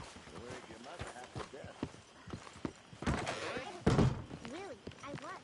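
Horse hooves clip-clopping in Red Dead Redemption 2, a close, irregular run of hoof thuds under game dialogue and characters' voices.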